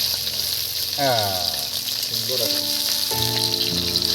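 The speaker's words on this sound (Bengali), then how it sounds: "কারণ এই কড়ার মধ্যে মাছ ভাজা হচ্ছে" Fish frying in a kadai for a mustard-paste recipe, a steady hiss of hot oil running under a voice speaking briefly, close and continuous.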